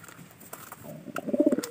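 Young squab pigeons at a coop, nearly ready for courtship driving, give a short, fairly close cooing burst late in the clip after faint rustling, with no talking.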